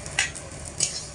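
Moong dal being stirred in a hot pan over medium heat with tempered spices, a couple of brief scraping clicks of a utensil over a faint steady sizzle, no voices.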